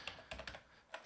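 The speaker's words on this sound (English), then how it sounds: "here we're going to need to type in server" Quick keystrokes on a computer keyboard, a short burst of several soft clicks close by with a brief pause midway, and no talking.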